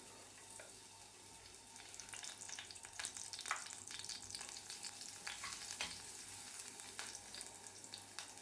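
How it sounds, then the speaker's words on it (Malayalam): Crushed ginger and garlic sizzling in coconut oil in a pan, a steady crackling fry with occasional sharper pops and soft stirring scrapes, close and continuous with no talking. "ഒരു പാനിലേക്ക് രണ്ട് ടേബിൾ സ്പൂൺ വെളിച്ചെണ്ണ ഒഴിച്ചു കൊടുക്കാം അതിലേക്ക് ഒരു ടേബിൾ സ്പൂൺ ഇഞ്ചിയും വെളുത്തുള്ളി ചതച്ചത് ചേർത്ത് കൊടുക്കാം"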